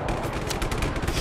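Rapid handgun fire in the action video game Just Cause 3, dense overlapping shots crackling loudly and continuously through a short burst, with no talk.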